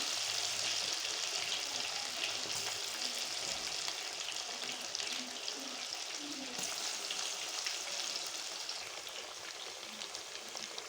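Small chicken pakora pieces deep-fry in very hot ghee, giving a steady, loud, close sizzle that keeps on without a break.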